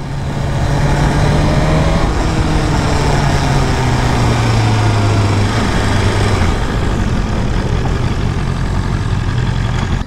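A BMW S1000RR motorcycle engine while riding, a loud, steady, close drone whose pitch rises and falls slightly as the throttle shifts, with no other sounds over it.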